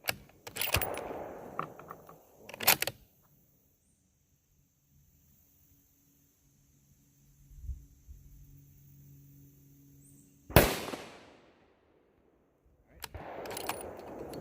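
A rifle fires at a long-range target on a 1000-yard range, giving sharp loud cracks with short decaying tails at about 0.5, 2.7, 10.6 and 13.3 seconds, separated by near silence and faint low rumbles.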